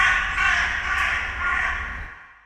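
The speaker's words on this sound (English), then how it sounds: "now we should get a reverberated crow." A crow's harsh caw, a sample processed with reverb in Ableton, rings out in a wet, washed tail that smears the call across two seconds before fading.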